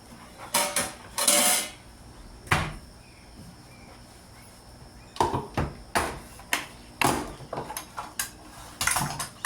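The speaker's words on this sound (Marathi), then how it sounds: "आता मी तिचा टिफिन पॅक करते" Tiffin lunch box packed in a home kitchen with fried puris: bursts of clattering steel containers, lids clicking shut and utensils knocking, arriving in irregular clusters with quiet gaps between, close by and with no talking.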